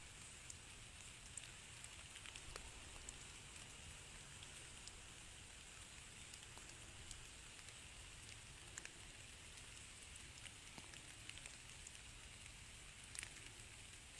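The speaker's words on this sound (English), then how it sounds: "It's raining good." Steady rain falling outdoors, a faint continuous patter and hiss with scattered tiny drop ticks, even and unbroken with no voices.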